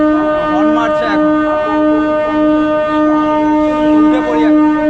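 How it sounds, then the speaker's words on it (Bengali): A train horn sounds at Kharagpur Junction, a loud, sustained tone that holds steady for several seconds and swells slightly in places. "হর্ন মারছে এখন"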